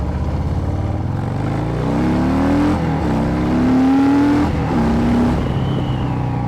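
A Harley-Davidson Street Bob 114 motorcycle pulls away and accelerates hard, its V-twin rising in pitch through the gears, loud and close with no talk.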